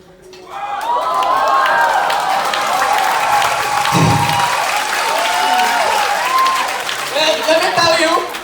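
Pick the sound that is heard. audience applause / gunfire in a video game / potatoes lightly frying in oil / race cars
audience applause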